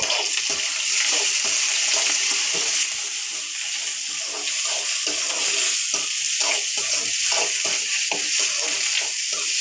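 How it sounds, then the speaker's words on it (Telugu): Tomatoes frying in a pan for a beetroot curry, giving a steady, loud sizzle with scattered soft stirring scrapes across the whole stretch, no voices. "అలాగే టమోటా ఇదైతే కొంచెం బాగా దూరగా వేయించుకోవాలి"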